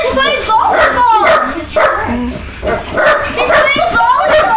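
A dog playing with a volleyball gives repeated excited barks and yips, loud and close, over constant talk and commotion.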